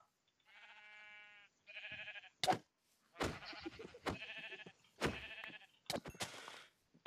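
Sheep bleating in a video game, a series of about seven short, clear bleats with gaps between them, fairly close and heard alone.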